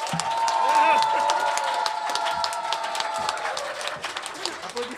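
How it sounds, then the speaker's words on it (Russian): Applause from an audience at a masterclass event, steady clapping mixed with crowd noise, a sustained tone and a voice calling out over it, fairly loud. "Аплодисменты Гие."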